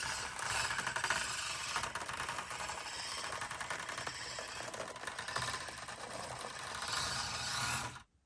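A mini RC crawler grinds up a hill, its small motor and gears giving a continuous whirring, ratcheting buzz at close range that cuts off abruptly at the end.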